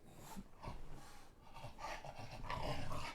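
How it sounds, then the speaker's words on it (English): A dog gives low, rough growls and snorts in uneven bursts close by, fairly faint overall, with no talking. "I'm scared of this big scary dog."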